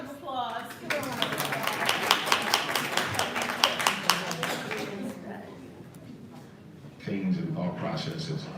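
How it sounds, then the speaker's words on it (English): A small live audience claps in a brief burst of distinct hand claps, rising and then fading after a few seconds. Talking runs before and after the clapping. "Give a round of applause."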